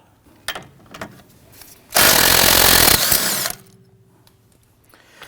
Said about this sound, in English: Let's go ahead and use a 15mm deep socket on the top. Loosen that nut.